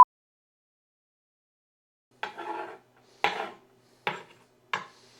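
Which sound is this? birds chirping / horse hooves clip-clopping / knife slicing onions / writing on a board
knife slicing onions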